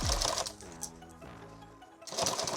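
A sewing machine stitches across Velcro on pistol magazine pouches in short quick bursts, close and fairly quiet, with a pause between runs of rapid mechanical clatter.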